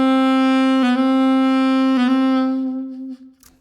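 Smooth jazz saxophone plays a phrase from a song: long sustained, vibrato-free tones with two brief note changes, loud and close, fading out alone at the end with no talk.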